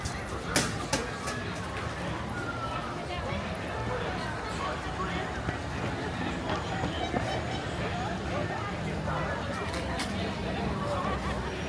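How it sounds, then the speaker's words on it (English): Disneyland Railroad train rumbling past in the theme park with crowd chatter and talking mixed in, a steady broadband rolling noise with a few sharp clanks throughout. "There goes the Disneyland Railroad."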